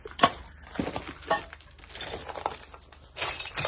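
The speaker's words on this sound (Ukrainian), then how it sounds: "Це скло" Broken glass crunches and clinks underfoot inside a war-damaged, burned-out church in Vuhledar, with irregular close footsteps grinding shards, scattered sharp tinkles, and a louder crunch near the end.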